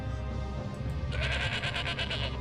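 Sheep bleat in the city-building game Zeus, a wavering tremolo bleat over a steady bed of game ambience and music.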